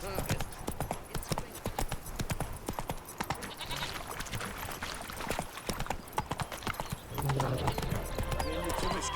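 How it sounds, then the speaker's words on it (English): Horse hooves clip-clopping in The Witcher 3: Wild Hunt, a brisk steady trot of close hoofbeats that runs the whole time, with game characters speaking over it and a short whinny-like tone near the end. "Whoa there, Roach"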